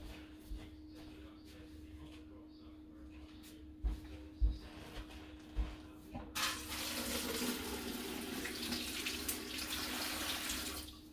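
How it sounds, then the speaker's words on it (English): Water pours steadily into a heavy All American pressure canner on a stove, a sustained broadband rush starting partway through after a few soft clunks and handling noises, with a constant low hum underneath. "I'm going to pour some water in it"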